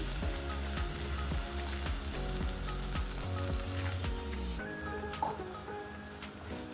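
Pumpkin halwa sizzles in a pan as coconut milk goes in, with a steady loud frying hiss and rhythmic scraping stirs of a spoon, then the sizzle softens and a single clink stands out near the end.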